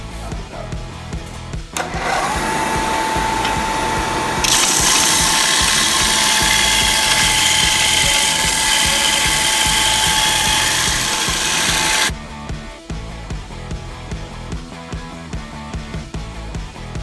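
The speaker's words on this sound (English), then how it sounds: "We're sanding them all down" A power sander grinding down 18-inch metal pieces, loud continuous abrasive whine that starts abruptly, intensifies partway through, then cuts off, leaving workshop clatter.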